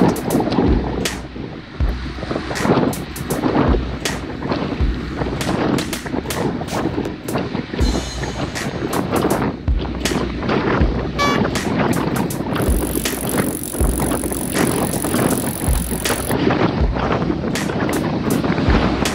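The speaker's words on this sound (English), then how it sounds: "You can hear the wind." Heavy wind noise buffets the microphone while cycling fast on a group descent near Capitol Hill Drive, a constant loud roar broken by sharp gusty thumps and clicks, with no voices.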